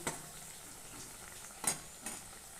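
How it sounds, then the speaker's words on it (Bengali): Beguni-style fritters fry in hot oil with a soft steady sizzle, broken by a few sharp clinks and scrapes of a utensil against the pan. "আর এইভাবেই বাকিগুলো আমি ভেজে নেব"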